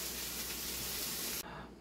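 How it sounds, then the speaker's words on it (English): Chicken, broccoli and peas steam under a lid in a wok, making a loud, steady broadband hiss that cuts off abruptly near the end and leaves a quieter low rumble. "we've put our lid onto the wok. We're gonna let that steam and get nice and warm in there"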